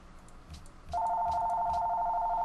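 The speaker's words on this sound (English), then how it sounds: "My phone seems to have rang" A phone rings loudly and close by, a steady electronic tone that starts suddenly partway through and holds continuously over faint background game sounds.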